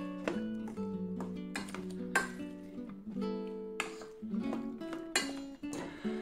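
A spoon or whisk mixes vegetable frittata mixture in a bowl, making a string of ringing metallic clinks and scrapes at an uneven rhythm, close and fairly quiet, with no talk.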